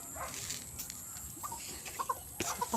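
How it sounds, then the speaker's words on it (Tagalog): Backyard chickens cluck softly in short, scattered calls, faint against a quiet outdoor background. "Pakain tayo ng chicken."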